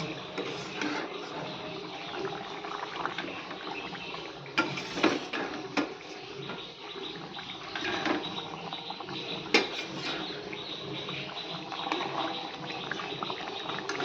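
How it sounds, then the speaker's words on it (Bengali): A pot of fish curry with potatoes bubbles at a gentle boil, a quiet, steady simmer broken by a few light clinks of utensils. No one speaks. "মাছগুলো আমি দিয়ে দিয়েছি এবার একটুখানি ফুটুক"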